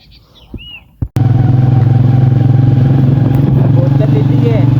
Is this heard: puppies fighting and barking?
no